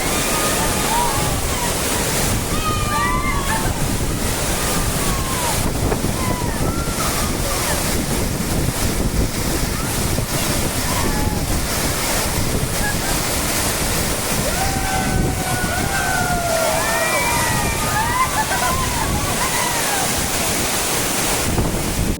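A waterfall in Devgad roars and splashes in a constant heavy rush during the monsoon, spray falling like rain, wind buffeting the microphone, with voices calling out over the din.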